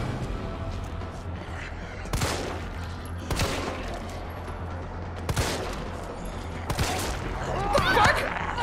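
Several pistol shots fire in Resident Evil 3, set apart as distinct loud cracks at steady gaps over a game's ambient background, with one more shot near the end.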